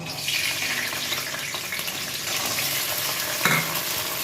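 Green peas hit hot oil in a kadai and fry with a steady, close sizzle and crackle, stirred now and then, with a sharp spatter burst near the end.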